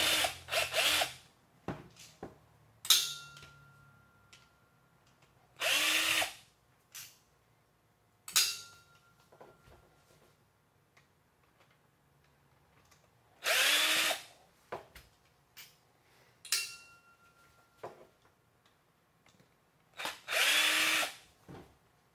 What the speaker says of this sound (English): now we can go back to the other side and remove these screws